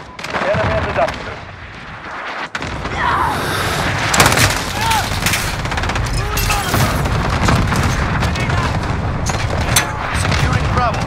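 Heavy explosions and gunfire from a cluster strike in Call of Duty Modern Warfare, a dense, sustained barrage of booms and bursts lasting throughout, with radio-style voice callouts mixed in.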